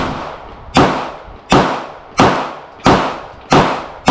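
Six sharp .40 pistol shots from a Smith and Wesson M&P 40, SD40VE or Glock 23, fired in a steady, evenly spaced rhythm, each loud crack followed by a short echoing decay.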